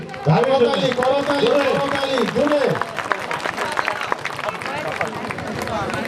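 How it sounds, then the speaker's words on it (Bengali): An audience at a Bengali NGO meeting bursts into a round of applause: a voice speaks first, then a dense spread of hand clapping rises from the room and continues steadily to the end. "আমরা সকলে একটু দাঁড়ায় তাকে সম্মাননা এবং একটা করতালি।"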